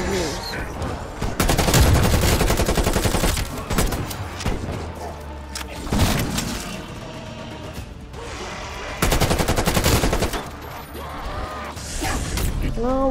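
Automatic gunfire from zombie shooting in Call of Duty: Black Ops Cold War, loud repeated bursts and rattling volleys coming in waves, with a player talking over much of it.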